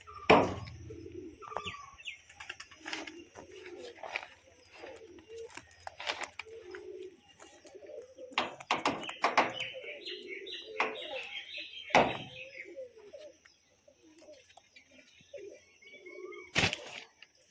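A pair of standing pigeons gives soft coos and chirps in short irregular bursts, with a few sharp clicks and rustles, close to the microphone and heard alone.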